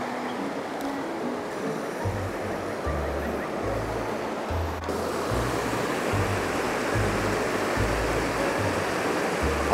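A clear river rushes beneath a bridge in a remote Japanese village, a steady, broad wash of flowing water with a low rumble underneath, continuous and fairly loud with no one speaking.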